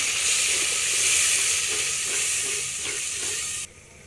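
Masala paste of one tomato, four green chilies, garlic and ginger sizzles loudly with onions in a hot pan, a steady bright frying hiss that drops off abruptly near the end.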